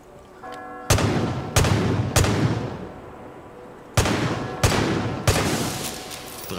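Gunfire in the video game Far Cry 5 as a tire is shot: six sharp, loud reports in two groups of three, each with a booming, decaying tail, preceded by a short electronic tone.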